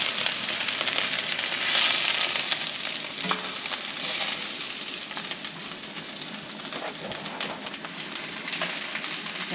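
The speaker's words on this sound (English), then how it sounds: "let's get this chicken out" Chicken pieces fry in a pan with a loud, steady, close sizzle and crackle, a few faint clinks rising briefly above the hiss.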